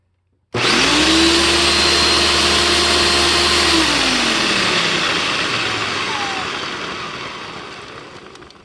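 A 1994 Dirt Devil Classic vacuum cleaner starts abruptly with the hose attachment in use and roars loudly and steadily for a suction test, its whine dropping in pitch midway and then slowly fading.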